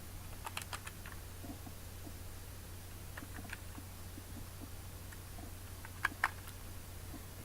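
Typing on a computer keyboard while writing HTML table code, soft scattered keystrokes at a quiet, close level, with a couple of sharper clicks near the end and a steady low hum underneath.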